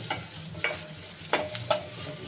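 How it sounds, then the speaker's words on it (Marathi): A large onion is fried in a pan for a masala curry, with a soft background sizzle and three or four brief scraping stirs from a spoon, without talking. "तर आता भाजवायचा आहे एक कांदा"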